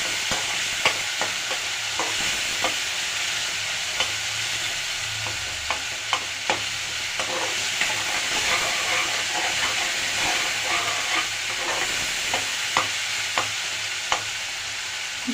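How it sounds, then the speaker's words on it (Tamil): Chilies and other ingredients for a radish chutney sautéing in hot oil, a steady loud sizzle with a spoon stirring and scraping the pan in irregular clicks. "இதெல்லாம் சேர்ந்து எண்ணெயில் நல்லா வதங்கணும்."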